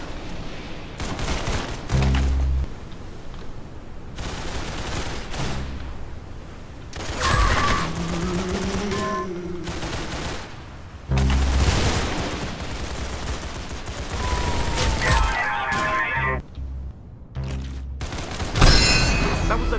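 Gunfire rattles through a Roblox Arsenal match, bursts of rapid shots and bangs separated by short lulls, with game sound effects and tonal alert sounds mixed between the volleys, no talking.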